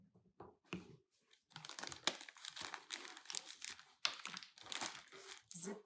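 A plastic bag holding potatoes and oil gets two tablespoons of dip and dressing mix tossed in, giving close, loud crinkling and rustling in uneven bursts with brief pauses between.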